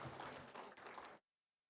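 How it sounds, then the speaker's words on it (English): Audience applause at a startup summit inauguration ceremony in Delhi, a dense wash of clapping that runs steadily for about a second before cutting off abruptly into silence. "Can we give him a round of applause, please?"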